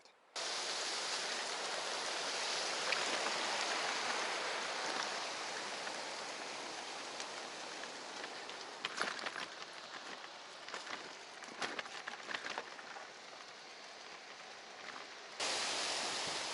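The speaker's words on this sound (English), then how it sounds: "The streams are starting to cross the road more often." Streams of water running across a mountain road in Peru, a broad, steady rush of flowing water with scattered splashes and clicks toward the end, heard without any talk.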